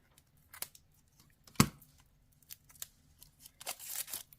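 Scissors snipping open a package of satin shimmer ribbon at a papercraft table, a few quiet crisp cuts with one sharper snip and light rustling of packaging, close and alone.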